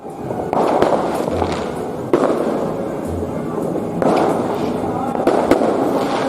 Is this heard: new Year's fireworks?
yes